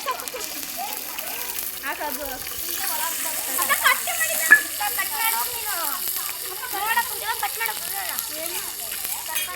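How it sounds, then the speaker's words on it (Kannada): Spices for a tempering crackle and sizzle in hot oil in a home kitchen during a casual cooking contest, a steady bright frying hiss with scattered pops, while voices chatter over it throughout. "ಇವ್ರಿಲ್ಲಿ ಏನೋ ಒಗ್ಗರಣೆ ಹಾಕ್ತವ್ರೆ"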